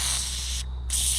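WD-40 aerosol sprayed into an engine cylinder while assembling a built Honda K24 short block: two close, loud bursts of hissing spray with a short break between them.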